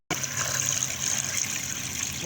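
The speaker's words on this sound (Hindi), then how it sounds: "अब हम डालने जा रहे हैं इसके अंदर पानी।" Water pours steadily into a pot close by, a continuous splashing gush with no talking.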